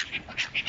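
Ducks being fed at close range give a quick run of three or four nasal quacks in under a second, loud and alone with no talk.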